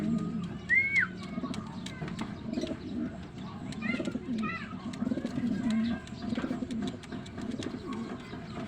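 Racing pigeons arriving at a loft, soft cooing and chirps with wing flutters and scuffling nearby, over a murmur of background voices and outdoor noise.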